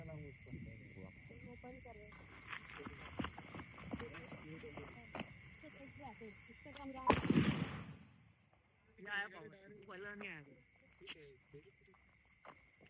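Rope bomb firecrackers burst during a Diwali celebration, with one sharp loud blast standing out among tonal whistles and people talking in the background.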